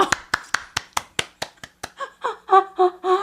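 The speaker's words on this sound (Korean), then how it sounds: "박수로 맞아주세요" An audience claps to welcome a guest artist, starting as roughly ten sharp, evenly spaced claps and then giving way to voices.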